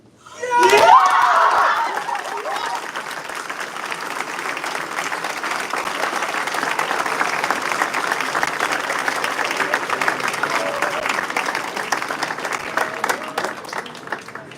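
A moot court audience bursts into dense applause that peaks early with a few shouts, then settles into sustained, even clapping that carries on for a long stretch under brief voices.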